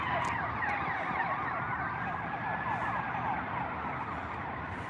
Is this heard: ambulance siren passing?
yes